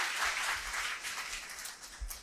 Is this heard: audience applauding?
yes